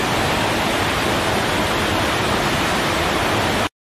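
Heavy tropical downpour in Bangkok, a loud, dense, unbroken hiss of rain close by, cutting off abruptly just before the end.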